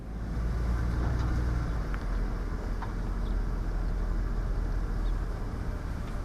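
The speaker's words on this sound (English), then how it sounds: "this looks like a good place to reverse it to fully disengage the hubs and the front drive line" A 1994 full-size Ford Bronco backs up off-road to disengage its front hubs and driveline, with a steady, loud low engine rumble and road-like drone running throughout, no voices.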